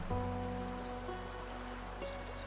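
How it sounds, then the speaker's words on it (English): Steady, soft rainfall with a constant wash of noise and low rumble, close and continuous, no voices. "the rain is just like the perfect white noise to sleep to"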